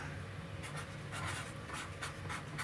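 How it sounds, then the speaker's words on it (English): A marker or pen writes on an auto interior rear trim panel during upholstery disassembly, giving soft scratchy strokes in short bursts, close and fairly quiet over a steady low hum. "first I want to write"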